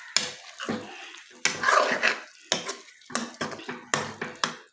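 Tandoori potatoes are mixed in a pot, with a series of close, distinct clanks and scrapes of a spoon against metal in irregular bursts.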